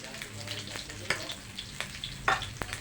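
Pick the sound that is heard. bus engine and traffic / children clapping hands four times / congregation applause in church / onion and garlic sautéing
onion and garlic sautéing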